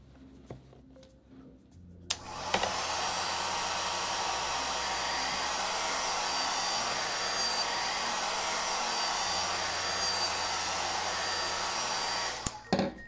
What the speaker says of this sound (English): I'll use a towel first and then we can move to the hair dryer.